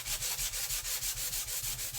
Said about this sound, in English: I just want to sand it smooth